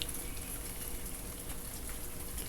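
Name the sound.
rain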